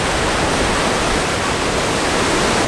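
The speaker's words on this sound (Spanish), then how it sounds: "que ahorita vemos que la marea está alta. Hasta acá están llegando las olas." Ocean waves at high tide washing up a beach by the malecón in Mazatlán, Mexico, heard as a steady, loud, unbroken roar of surf with no voices.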